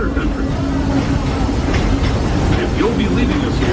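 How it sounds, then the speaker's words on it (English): A Disneyland Railroad train runs along its track at Disneyland with a steady, loud, close rolling rumble and faint clatter. A voice sits softly beneath the running noise. "please remain seated until the train comes to a complete stop"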